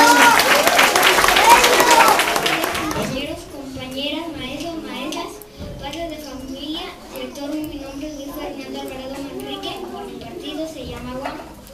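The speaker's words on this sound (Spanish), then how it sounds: "un aplauso para Wanda" Applause from students and teachers for a student speaker at a school election at Colegio Miguel Asturias, a loud burst of clapping that fades after about three seconds into children's voices and speech.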